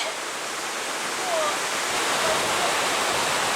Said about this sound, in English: That one's a bit more of a torrent.